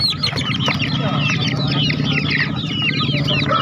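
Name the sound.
Bangkok chickens clucking at a chicken market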